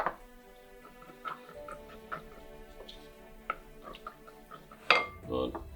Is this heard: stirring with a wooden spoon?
yes